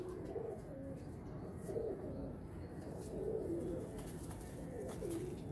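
Golden flying pigeons coo in a steady rhythm, about five soft, rolling calls spaced out one after another, close by over faint background hiss.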